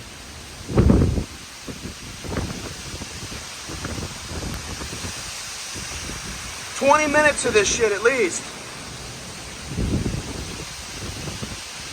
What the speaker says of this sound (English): I would not be surprised if some of these winds are over 100 miles an hour.